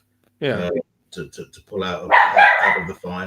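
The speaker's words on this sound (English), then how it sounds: "Sorry, that's the dog barking." A dog barks in the background, a short burst of louder yelps partly masked by someone talking over it.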